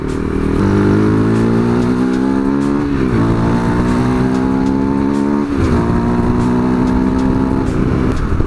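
A KTM Duke 390 motorcycle engine drones loudly while riding along an unmarked road, with a strong harmonic whine rising as it accelerates and dropping at two gear shifts, wind rumble underneath and no voices.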